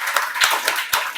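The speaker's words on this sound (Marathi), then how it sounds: "एकदा जोरदार टाळ्या वाजवा त्याच्यासाठी" A class of students claps hands loudly together in a steady, rhythmic beat of sharp claps about every quarter second, with no talking.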